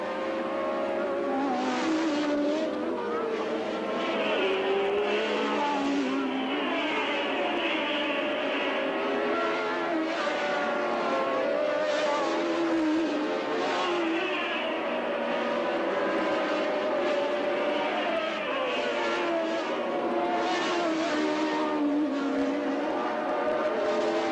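Formula 1 race cars at the 1981 Austrian Grand Prix scream past one after another, high-revving engines rising and falling in pitch in a continuous loud roar with no break.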